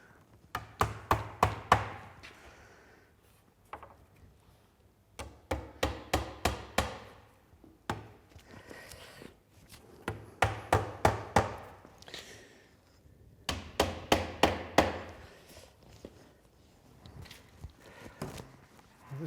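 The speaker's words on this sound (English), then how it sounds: "So not fully nailing them home." Hammering nails into a wooden door stop while fitting it to a door frame: bursts of four to six quick, sharp hammer blows, repeated in groups with short pauses between, close and clear.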